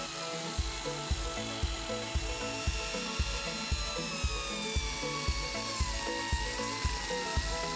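A power saw fitted with a dust extraction cowl cuts steadily through material, a close, loud grinding whine with a regular pulsing rhythm throughout.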